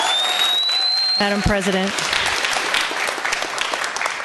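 Audience applause fills a Board of Supervisors meeting after a member's remarks, a dense steady clatter of clapping that runs through the whole moment while a speaker briefly addresses the chair over it.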